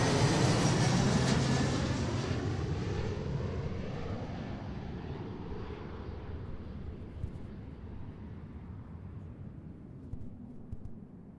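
An Embraer 175 regional jet lands on runway 34L at Seattle, its loud engine roar and rushing noise slowly fading as it rolls out and decelerates in the distance, with no talking.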